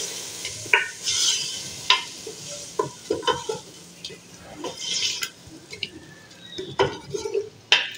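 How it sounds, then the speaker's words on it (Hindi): Loud sizzling and frying of meat with garlic ginger paste for bhuna gosht, with frequent metal spoon scrapes and clanks against the pan, continuous throughout, up close. "इसको मैं थोड़ा सा भूनती हूँ लहसुन अदरक के साथ।"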